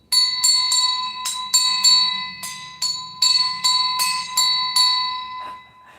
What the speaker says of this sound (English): let's hit the bell notification just again.